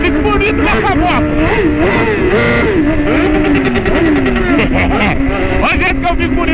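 A sport motorcycle engine revving up and down repeatedly, loud and close, its pitch rising and falling, with a voice calling out over it.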